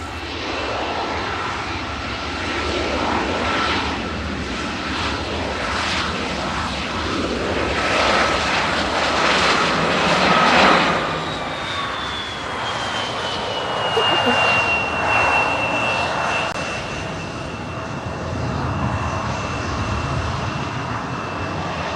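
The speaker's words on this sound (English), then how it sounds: "Scandinavians here with a little CRJ 900 here from Copenhagen with flight 539." A Scandinavian Airlines CRJ 900 jet from Copenhagen at Manchester Airport gives a loud, steady engine roar with a whine that slides down in pitch as it passes, while people talk over it throughout.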